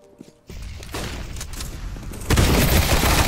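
Sawed-off shotgun gunfire in a first-person shooter game, a loud dense burst of rapid blasts that swells and grows heavier toward the end, with no talk.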